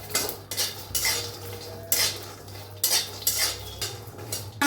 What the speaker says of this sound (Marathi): शेंगदाणे जरा भाजायला ते त्यातच आपण खोबरं टाकून घेऊया